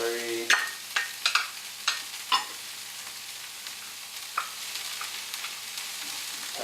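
Onions, garlic and celery frying in a pan for turkey sloppy joes, stirred with a few sharp scrapes and clacks over a steady quiet sizzle, close by with no talking.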